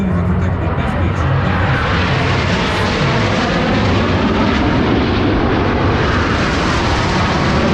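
Airshow aircraft at Orange County, New York, roar overhead in a loud, continuous drone of engines that fills the whole stretch without a break.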